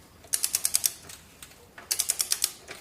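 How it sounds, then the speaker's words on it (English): Torque wrench ratcheting while tightening the rear axle nut on a Triumph Daytona 675 motorcycle: two quick bursts of sharp, close clicks, about six in each run, separated by a pause. "And let's go ahead and torque it down."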